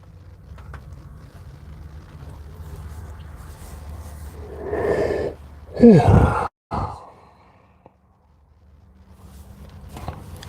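A man on a live market commentary stream yawns once, a long drawn-out breathy yawn that swells and then cuts off sharply, heard close and alone over faint room noise.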